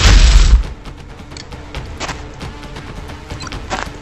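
Gunfire in XCOM Enemy Within on Android during a training mission: a loud, booming burst at the start, then a quieter string of sharp shots and impacts over a low rumble, with no speech.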